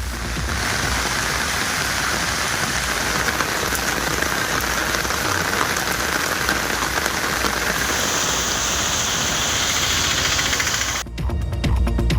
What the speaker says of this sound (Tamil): பல்வேறு பகுதிகளில் இடி மின்னலுடன் கூடிய கனமழை பெய்தது